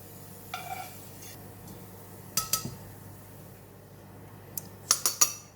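Fried garlic being scooped from a hot pan: sharp metal clinks and scrapes of a utensil against the pan in scattered clusters, quiet between strikes, with a faint low hum underneath.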